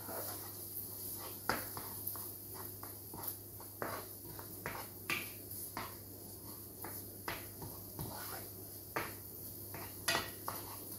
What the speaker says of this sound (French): Et on va mélanger, comme si on faisait un œuf brouillé, aux oignons.